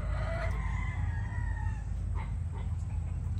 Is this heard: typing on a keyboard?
no